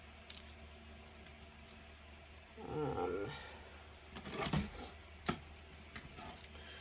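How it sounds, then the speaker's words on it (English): Scissors snip through twine while an Aglaonema plant is repotted, a few short crisp cuts near the mic with soft rustling from the plant and pot around them. "Cut off my little twine here that I had to hold it together."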